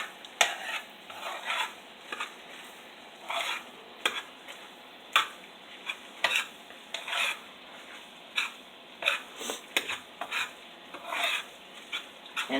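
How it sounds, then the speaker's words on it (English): Tater tot casserole mixture sizzling in a pan while a utensil stirs it, giving repeated rhythmic scraping strokes over a steady faint frying hiss. "Alright, so it's sizzling good."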